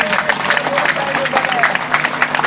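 Dense crowd applause from a large festival gathering at a Junagadh mandap celebration, steady clapping throughout with voices mixed in.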